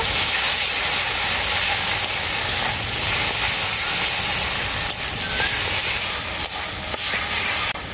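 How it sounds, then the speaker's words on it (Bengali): Cumin and mustard paste frying with green tomatoes in a pan gives a steady, loud, close sizzle that hisses on without pause for several seconds. "জিরে আর সরষে বাটাটাকে একটু কষিয়ে নেব।"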